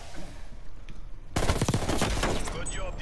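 Sniper fire in Call of Duty Cold War multiplayer, a sudden loud blast opening into a dense, sustained wash of gunfire and battle noise that stays heavy to the end, close and harsh.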